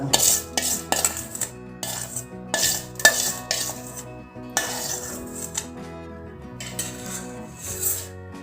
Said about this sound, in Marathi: आता हे सर्व आपण छान मिक्स करून लोणचे छान मिक्स करून झाले आहे